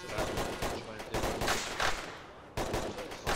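Gunfire in the military shooter Arma 3 during a co-op operation, several loud bursts and sharp shots in quick succession, with a brief lull before another burst.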